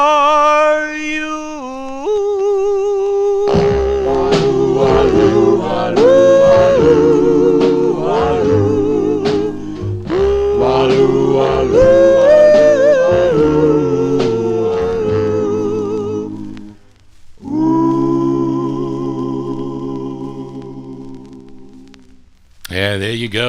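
A 1955 vocal group recording spins on a 78 RPM record player, the song playing with a steady, full mix of voices and backing instruments, a brief dip near the end before the music resumes.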